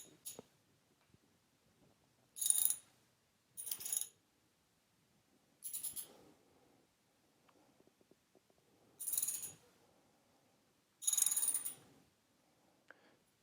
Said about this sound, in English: Now we can loosen the lower screws on the steering stem, and you can use a size 6 Allen head socket.